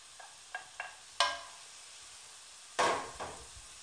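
Vegetables and carrots added to a hot pan for shrimp cigars, giving a few light knocks and then two brief sizzling bursts as pieces hit the pan, close and fairly quiet.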